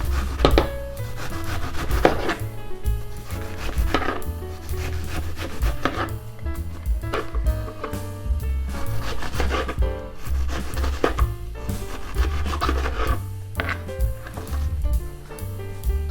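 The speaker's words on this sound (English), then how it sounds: "I'm done chopping the cabbages" A knife chops rapidly and steadily on a board, crisp repeated thuds and crunches of cabbage continuing with brief pauses, close and fairly loud.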